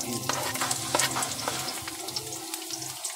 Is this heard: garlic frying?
yes